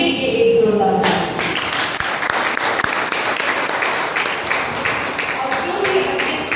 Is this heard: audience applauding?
yes